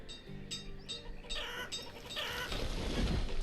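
Chickens clucking in the village-building game Banished, short repeated clucks and squawks at moderate volume, with a low tonal hum early on and rising background noise toward the end.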